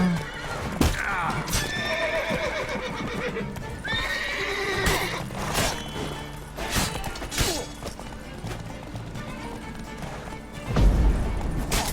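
A horse in The Witcher 3 neighs loudly several times while its hooves clip-clop in a fast gallop, mixed with other game action sounds throughout.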